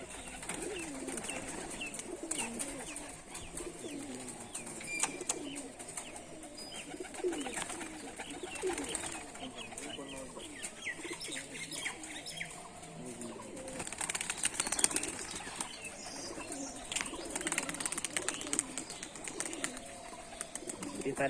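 High-flying pigeons coo in a steady, continuous chorus, with wingbeats flapping among them and occasional chirps. The sound is moderately close, fills the whole stretch without pause and carries no talk.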